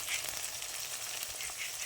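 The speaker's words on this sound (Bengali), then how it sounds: "একটু লাল লাল করে ভেজে নেবো পেঁয়াজটা" Chopped onion and tomato frying in hot oil in a pan, a steady soft sizzle and crackle that stays even throughout, quiet and without talk.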